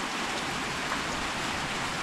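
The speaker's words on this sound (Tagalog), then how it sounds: "Ulan na mga idol." Rain falling steadily as an even, dense hiss of drops, faint and continuous with no other clear sounds.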